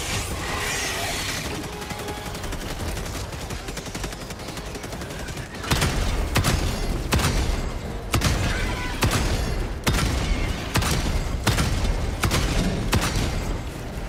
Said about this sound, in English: that auto cannon didn't do shit on that big bug